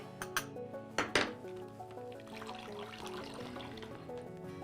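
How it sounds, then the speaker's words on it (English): Marinade poured over elk medallions in a zip top bag, beginning with a few sharp clinks and clatters, then a soft, steady liquid trickle that runs quietly for several seconds. "Then we're going to pour the marinade right over the top."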